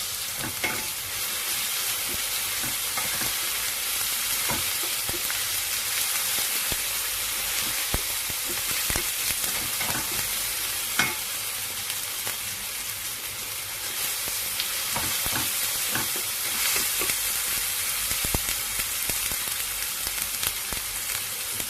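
Beef and cubed capsicum stir-fry in a hot pan, a continuous crackling sizzle broken by frequent sharp clinks and scrapes of a utensil stirring, steady and close with no talking.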